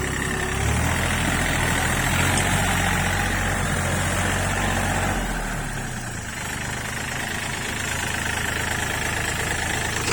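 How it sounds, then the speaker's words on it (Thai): A diesel tractor engine idles with a steady, loud knocking rumble, dipping briefly midway before settling back to an even chug. "เรามาชมเครื่องยนต์ดูนะครับ"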